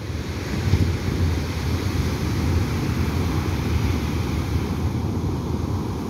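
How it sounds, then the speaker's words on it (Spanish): Rough sea waves surge onto the beach at Monte Rico, Guatemala, in a loud, continuous roar of surf, with wind buffeting the microphone and no voices. "El mar está bastante agitado."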